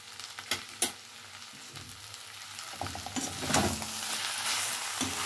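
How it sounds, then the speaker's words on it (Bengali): Banana flower cooks in a pan with ghee and garam masala, a faint sizzle that grows louder after a few soft clinks and scrapes of a spoon, with no talk. "এবারে দিয়ে দেবো একটু গরম মশলার গুঁড়ো। এবার একটু ঘি দিয়ে দিলাম।"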